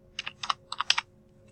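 Quick keystrokes on a computer keyboard, about eight crisp clicks in two short clusters, close and clear over a faint hum.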